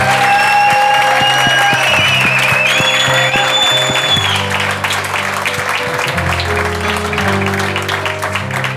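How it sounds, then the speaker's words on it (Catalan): Audience applause after a literary reading session, sustained dense clapping from a crowd, loud and continuous, with music tones playing underneath and no speech. "Un aplaudiment ben"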